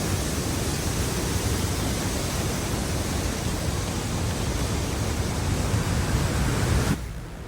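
Faucherie Falls roars with a dense, unbroken rush of falling water, loud and close, with cold wind and mist in the air, cutting off abruptly near the end.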